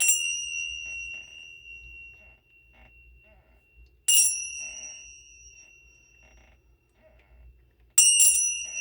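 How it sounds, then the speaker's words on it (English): Hand bells rung to clear the energy in a room, three bright metallic strikes at about four-second intervals, each leaving a clear shimmering ring that slowly fades, close and fairly loud with a quiet background between rings. "I am just going to use my bells here to clear the energy in space."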